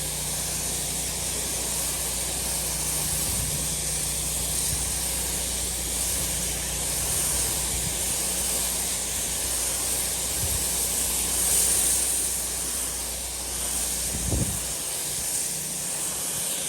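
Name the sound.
hose spray rinsing concrete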